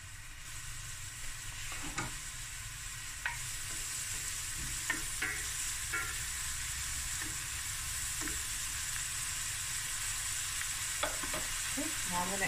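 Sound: curry leaves sizzling in hot oil for prawn coconut curry

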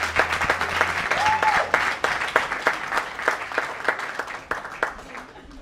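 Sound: audience applause for a comedian

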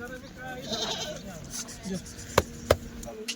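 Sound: goat bleating

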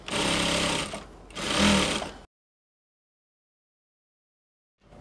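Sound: sewing machine stitching dress shoulder seam

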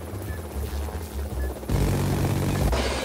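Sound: helicopter flying in Roblox Bendy and the Ink Machine video game

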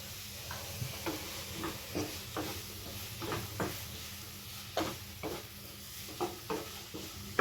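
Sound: sautéing in a pan with salt, Kerala chicken curry

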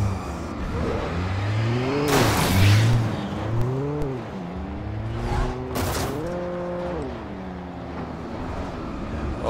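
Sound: car engine revving in video game Alan Wake

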